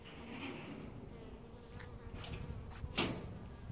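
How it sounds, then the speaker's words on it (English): A bee gathering nectar in a front garden buzzes steadily close to the microphone, its hum rising and falling against faint outdoor background noise with a few brief clicks, no talking. "The bee might sting you."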